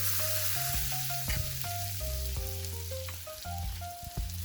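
Sisig sizzling and frying in a hot pan, with a steady broadband hiss and crackle running throughout, close and fairly loud, while tonal music plays underneath.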